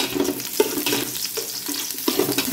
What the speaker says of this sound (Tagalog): isusunod natin itong sibuyas